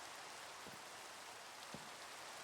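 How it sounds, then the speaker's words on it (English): Steady rain falls in a video game, a soft, even hiss of drops on a surface with two faint dull thumps in the background, no voices. "It's raining."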